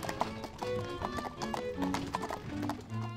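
Hooves of a Kladruber horse clip-clopping at a steady trot, loud and close, with a brief whinny-like tone and no talk over it.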